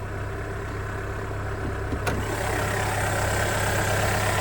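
The 1.3-liter inline-four hybrid engine of a 2024 Dodge Hornet R/T Plus idles steadily with a low, even hum, close and uninterrupted apart from a single faint click.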